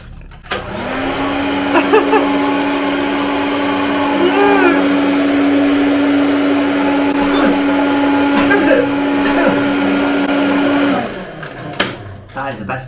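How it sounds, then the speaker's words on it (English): A handheld hair dryer blows steadily on wet hair indoors, a loud even whir with a fixed tonal hum that runs unbroken for about ten seconds before switching off, with a few faint voice sounds over it. "That is the best hair dryer I've ever used."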